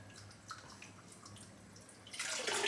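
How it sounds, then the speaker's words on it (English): Warm water fills and sloshes in a shaving soap bowl during rinsing, starting with quiet drips and trickles, then swelling into a louder, steady rush of running water near the end. "Just fill it with some warm water,"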